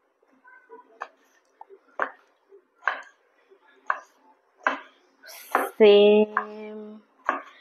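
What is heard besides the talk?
chopping shirali (ridge gourd) vegetable with a knife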